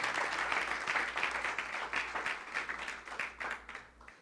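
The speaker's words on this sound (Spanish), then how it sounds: "¿Cuántos dan un fuerte aplauso al Rey?" A church congregation applauds, a fairly faint wash of many hands clapping steadily with a low hum underneath, tapering slightly toward the end.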